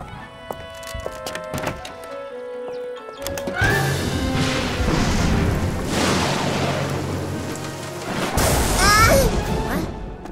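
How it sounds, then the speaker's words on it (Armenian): Two sudden, loud crashing bursts of thunder break a quieter stretch of scattered knocks and tones, the first rolling on for several seconds. "Ընդամենն ամպրոպից ձայն է, վախենալու կարիք չկա։"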